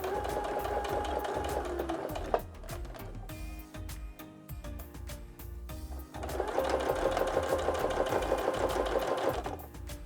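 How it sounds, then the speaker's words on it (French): A sewing machine stitches a non-separating zipper in fast, steady bursts of needle clatter, pauses briefly with some light handling noise, then runs again at full speed, close and with no talking. "Donc point d'arrêt et je lance ma couture."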